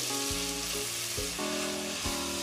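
Finely chopped onions frying in oil over medium-low heat give a steady, close sizzle, with a low tonal hum running beneath and a few brief stirring bumps.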